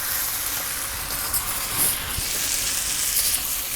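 Tomatoes sizzle and fry steadily in a hot pan for fish mappas, a dense continuous hiss with faint scraping of a spoon as the mixture is stirred, close and loud with no talking.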